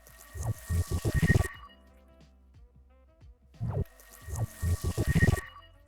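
Layered portal-building sound effect made from bathroom recordings: two swelling bursts of watery, splashing texture with a bright ringing high tone, separated by a quieter hollow stretch of resonant drips.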